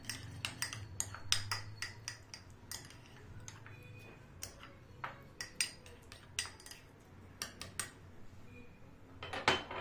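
Potatoes being tossed with vegetable oil in a bowl for roast potatoes, a run of quick light clinks and taps from a utensil against the bowl, close and fairly quiet, with no speech.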